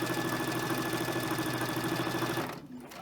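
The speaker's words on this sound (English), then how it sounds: "I'm going to go ahead and going to sew this in" Quilting a spool block, a sewing machine stitches fabric pieces together in a steady, rapid mechanical chatter, close and fairly loud, then slows and stops near the end.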